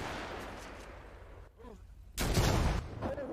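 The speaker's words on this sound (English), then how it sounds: "There goes the explosion from the tank." A tank explosion in GTA V, a heavy, loud blast that comes in suddenly after a quieter stretch of distant gunfire-like noise and then rumbles on.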